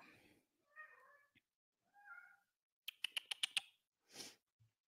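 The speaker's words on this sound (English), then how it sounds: "That's my cat calling noise." A cat meows several times, drawn-out calls with pauses between, followed by a quick burst of clicking taps and a short breathy sound, fairly close.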